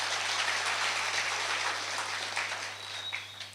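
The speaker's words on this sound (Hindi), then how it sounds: "जोरदार तालियां।" Steady applause from an audience at a speech in Manali, a dense wash of clapping that holds throughout and tapers slightly near the end.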